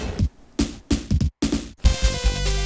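Sega-style video game jazz music, choppy stabs and bursts broken by brief gaps, then a steadier tonal passage at the end, fairly loud and without voices.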